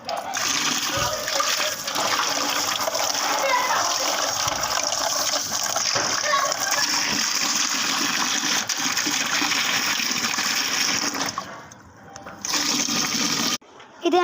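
Water runs from a tap into a bucket, gushing steadily and close by for most of the time. It dips briefly near the end and then resumes.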